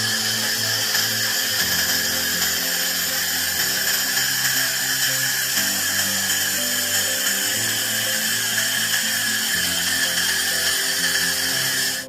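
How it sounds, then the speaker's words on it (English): A 400W handheld laser welder fitted for cleaning, run along welded seams to remove discoloration, giving a loud continuous high-pitched hiss and whine with a faint fluttering hum underneath, steady throughout. "Laser cleaning of welded seams with stray colors"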